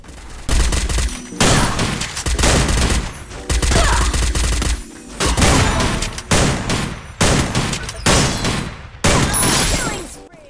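Gunfire in the video game Free Fire: loud, rapid bursts of shots in repeated volleys separated by brief gaps.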